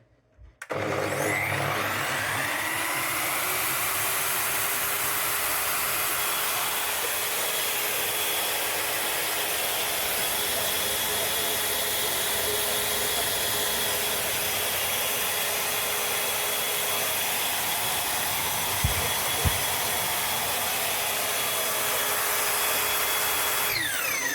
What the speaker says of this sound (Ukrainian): Вимикаємо, пилосос працює ще певний час